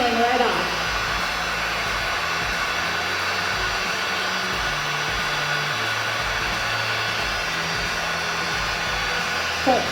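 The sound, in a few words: heat gun heating to remove paint from wood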